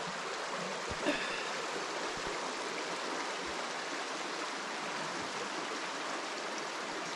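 A creek beside a campsite in the Brindabella ranges flows in a steady, continuous rush and babble, even and unbroken from start to finish, fairly quiet as if heard from a short distance.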